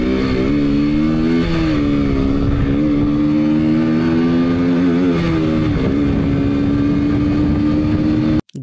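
A KTM motorcycle engine drones steadily up close on a quiet road at Bonpara, its pitch climbing in a few short surges as the rider accelerates, then cutting off abruptly at the end.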